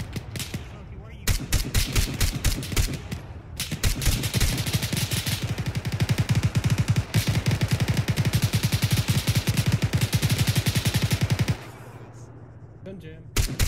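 Gunfire in the video game Arma 3: bursts of rapid automatic fire and single shots rattle on and off, loud and close, with talk in places and a steadier hum after the shooting stops.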